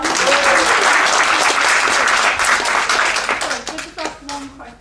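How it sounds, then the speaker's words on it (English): An audience at a brand-building seminar gives loud, sustained applause that tapers off toward the end as a voice starts to come through. "And give her a round of applause."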